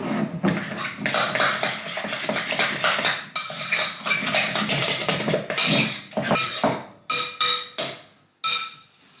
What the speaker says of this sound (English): Let's add the egg. And then beat again.